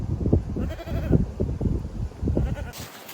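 A goat in a pasture bleats several times in quick, uneven cries, loud and close, over a rough outdoor background.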